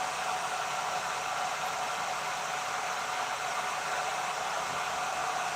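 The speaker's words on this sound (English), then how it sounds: "Can you guys hear my blow dryer running right now?" A blow dryer runs steadily and continuously, a loud, even, hissing whoosh of air and motor with no breaks or changes throughout.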